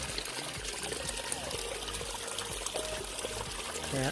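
Clear running water from a forest stream trickles and pours steadily up close, a continuous bright gurgling wash with no voices over it.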